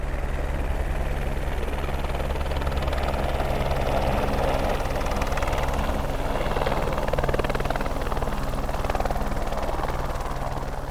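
A helicopter drops off a bag high on Mont Blanc, its rotor and engine roaring loud and close in a constant throbbing drone from start to finish.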